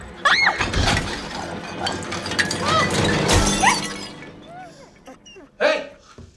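Glass shatters in a loud crash inside a house with a police dog nearby, followed by excited barking and whimpering, with people shouting through the commotion.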